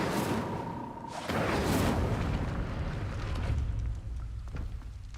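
Incendio fire spell cast in Hogwarts Legacy, a loud roaring whoosh of flame that swells and fades over several seconds, up close with no talking.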